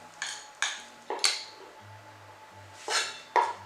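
A salad of cheese, tuna, grated egg and mayonnaise is stirred in a bowl, with half a dozen separate clinks and scrapes of a utensil against the dish, fairly close and quiet.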